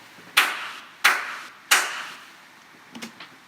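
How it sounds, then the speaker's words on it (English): Three sharp hand claps at an even, roughly steady pace, close and isolated in a quiet home recording room, followed by a softer faint knock-like tap. "And I'm going to clap here."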